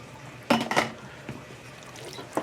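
Rinsed and drained canned black beans tumble into a pot with a close, wet clatter, a quick slushy burst followed by a few softer settling knocks.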